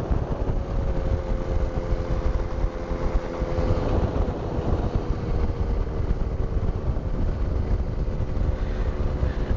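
A Power2Fly Falcon tandem trike's engine runs steadily at about 2,100 RPM without throttle, a continuous droning hum with wind noise, heard alone.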